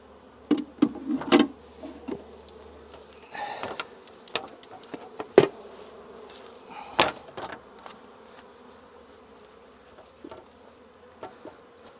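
Honey bees around a hive box make scattered buzzing passes and short bursts, close to the microphone, mixed with a few knocks and handling clicks.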